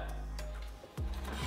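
A Skil circular saw makes a plunge cut into wood: a loud rasping cut that drops briefly, then the motor whine swells and climbs in pitch as the blade bites again, close up and with no talk.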